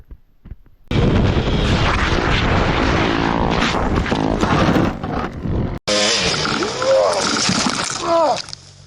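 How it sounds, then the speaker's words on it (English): A 2017 Beta 300RR two-stroke dirt bike fires up after a few brief kicks and then runs loud and close, its raspy two-stroke engine note blaring throughout, with a sharp change partway through. "Maybe you can see the first start. the first start of the 2017 Beta 300RR two-stroke."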